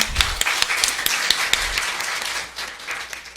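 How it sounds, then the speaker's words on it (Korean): A symposium audience applauds at an opening ceremony, a dense, steady clapping that is loud and close and holds throughout before easing slightly near the end, with no voices over it. "큰 박수 부탁드립니다."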